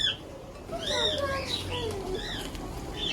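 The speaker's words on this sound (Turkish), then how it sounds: "Bağıran kuşlar bunlar." Parrots in a pet shop let out repeated shrill, swooping squawks and calls, moderately close, over a murmur of shop background noise.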